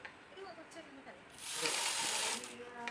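A sewing machine stitching jacket lining, starting with faint talk and light mechanical clicks, then a louder run of steady whirring stitching for about a second, with a voice speaking over it.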